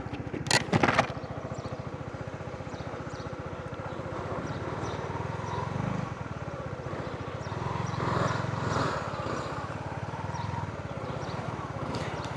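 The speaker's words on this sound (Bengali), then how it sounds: "দেখেন বাইক নিয়ে কীভাবে যাই, বাইকের সুবিধা এটা।" A motorcycle weaving through a traffic jam, its engine droning steadily and close throughout, with a brief sharp transient near the start and surrounding traffic noise rising and falling; no talk over it.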